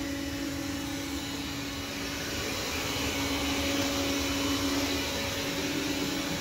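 Robot vacuum cleaner, a Roborock S4 or Neato D7, running over tile floor: a steady close motor whir with a tonal hum and broad suction noise, continuous and unchanging.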